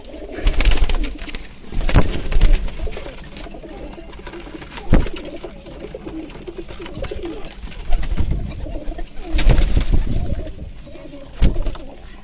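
Kabuli and Gola breed pigeons coo repeatedly in low, throaty bursts in a crowded breeding loft, several birds close by with overlapping calls and some rustling between them.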